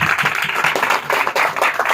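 A church congregation at an Urdu-language sermon claps hard and fast, a dense, loud wave of applause filling the room without pause.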